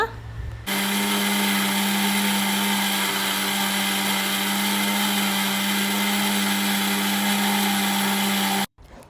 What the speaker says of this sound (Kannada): ಸೊ ಬನ್ನಿ ಈಗ ಮಿಕ್ಸಿ ಮಾಡ್ಕೊಳ್ಳೋಣ